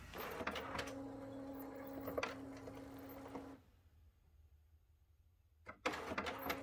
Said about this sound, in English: I want to try printing a status report.